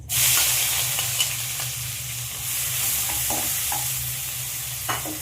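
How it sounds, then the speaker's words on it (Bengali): Sliced onions frying in hot oil with whole spices and bay leaf for a katla fish curry: a loud, continuous hiss that flares at the start and settles into a steady sizzle, with a few soft utensil taps. "পেঁয়াজটা দিয়ে আমি লাল করে পেঁয়াজটা ভালো লাল করে ভেজে নেব।"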